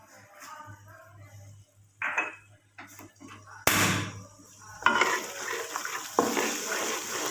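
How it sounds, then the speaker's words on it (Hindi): Water poured into a pot of boiled white lobia beans with crushed spices for a Pakistani bean curry, heard as a few short splashing bursts amid quiet kitchen clatter, with no talk. "थोड़ा सा हम पानी डालते हैं।"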